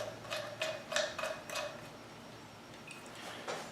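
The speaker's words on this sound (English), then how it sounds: "So now, this gets screwed back onto here." Parts of an HVLP spray gun being screwed back together for lacquer spraying: soft, quick ratcheting clicks and metallic ticks, close and quiet, repeated in several short bursts.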